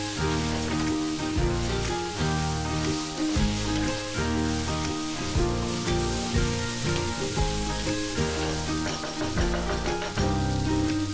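Beef with tomato ketchup and turmeric powder frying in a pan for a Goan beef chilli fry, a steady sizzle under loud background music throughout.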